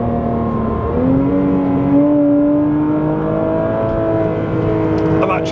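A Porsche flat six engine on a private race track at Blyton Park drones steadily from inside the car, its pitch climbing as it accelerates, with a voice talking over it.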